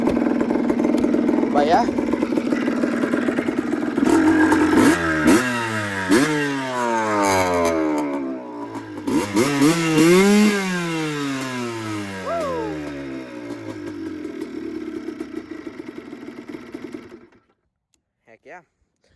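A rebuilt two-stroke Yamaha Blaster ATV engine runs loud and close, revving up and down in repeated rising and falling sweeps before cutting off near the end, with someone talking briefly over it.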